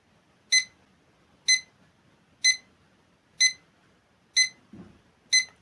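A GTY6507 electronic alarm clock beeps six times, short bright beeps evenly spaced about a second apart, with a soft low thump near the end.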